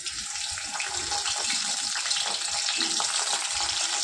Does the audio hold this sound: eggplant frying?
yes